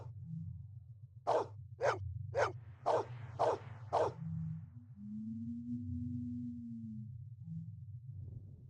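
A dog named Maggie barks in Blade Runner Enhanced Edition, six sharp, evenly spaced barks over a low steady hum, followed by a sustained tone and then quiet.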